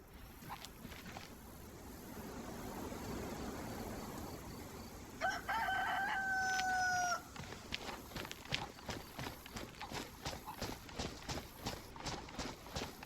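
Clucking chicken in the DayZ video game, faint and intermittent, with a brief tonal crowing-like call and rhythmic footstep-like clip-clop sounds following, no talking.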